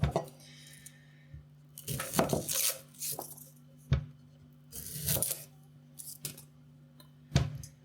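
Onion being cut on a board for grandma's spaghetti and meatballs, heard as irregular knife thunks and clicks in short bursts, near and fairly loud, with quiet pauses between strokes.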